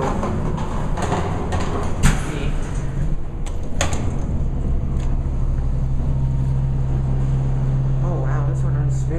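A Montgomery hydraulic freight elevator in a shopping mall runs smoothly with a steady low hum and a faint high whine, a few clunks and clicks early on, heard close and continuous throughout.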